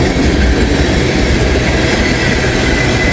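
A train passes close by on an eastbound line in humid weather, a loud, continuous rumble with rhythmic wheel clatter filling the whole stretch, no voices.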